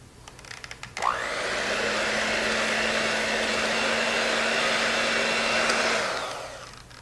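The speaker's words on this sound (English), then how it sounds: "I'm going to be using an electric hand mixer" An electric hand mixer beats pudding frosting for a banana cake, starting abruptly after a few light knocks and running as a steady, loud motor whine for about five seconds before winding down, with no talking.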